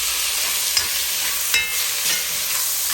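Tomatoes and onions fry in a pan for bread upma, giving a steady close sizzle broken by a few soft scraping stirs.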